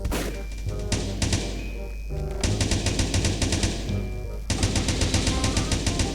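AK rifle fire in the blocky shooter Blockstorm: loud, rapid automatic bursts close by, with a brief lull near the middle before the chattering fire resumes and continues to the end.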